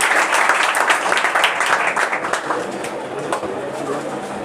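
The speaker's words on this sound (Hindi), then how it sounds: "जोरदार ताली बजाइए बच्चों के लिए।" Clapping for students at a prize distribution ceremony honouring Bihar board matric exam achievers, a scattered crowd applause that starts dense and thins out over several seconds, with a pigeon-like cooing mixed in.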